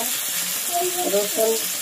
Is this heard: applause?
no